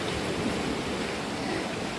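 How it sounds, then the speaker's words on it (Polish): Choppy waves roll onto Funtana beach on the Croatian coast, a continuous, moderately quiet surf wash with no break or distinct crash. "widzę, że są fale"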